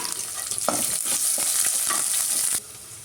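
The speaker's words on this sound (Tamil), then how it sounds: "அதை நல்லா இந்த பொரிஞ்ச ஸ்பைசஸோடு சேர்த்து நல்லா வதக்கிடலாம்" Onions sizzle loudly with fried spices in a hot pan while a utensil scrapes and stirs close by; the frying hiss cuts off abruptly near the end.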